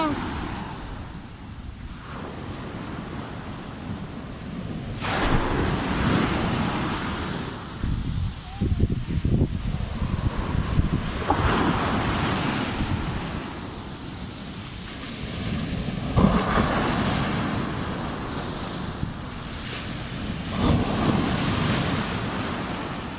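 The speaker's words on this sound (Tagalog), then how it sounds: "Nakita nyo ang alon, napakalakas ng alon." Heavy surf surges and crashes in repeated broad roaring swells, with wind rumbling across the microphone between the breaking waves.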